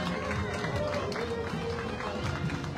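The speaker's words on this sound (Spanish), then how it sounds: "Un fuerte aplauso para este contingente." Crowd along the route of a Day of the Dead parade in Tepeaca, Mexico, applauds a passing contingent, a continuous distant patter of clapping blended with crowd noise and low rumble.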